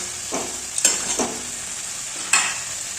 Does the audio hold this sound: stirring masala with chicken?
yes